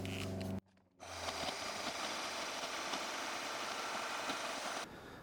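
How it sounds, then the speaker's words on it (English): A porta-bandsaw on a table, run at slightly reduced speed with an aluminum oxide wheel, cutting hard A-2 tool steel, producing a loud, steady grinding roar for about four seconds after a brief drop, then easing off. "Turn the speed down just a little bit on the porta-bandsaw table to cut through this hard stuff"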